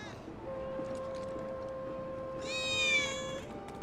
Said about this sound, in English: I think one of Betty's cats.